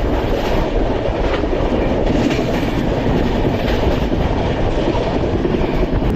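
Kantabanji Ispat Express passenger train on the Howrah to Ghatsila run, heard from on board at speed: a loud, steady, continuous rumble and roar of wheels on rails throughout, with no talking.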